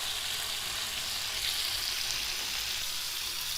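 Pieces of kaleji (liver) frying in a pan, giving a continuous loud, even sizzle and crackle that stays steady throughout with no voices.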